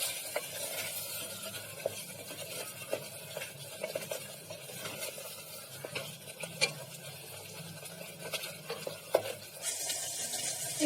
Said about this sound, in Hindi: मिक्स कर देंगे इसको अच्छे से।